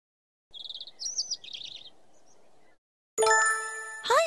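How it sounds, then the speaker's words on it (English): Bright, high chirps trill in three short bursts over a faint hum, followed by a loud ringing, chime-like tone. "Suddenly, he heard some cheerful chirping."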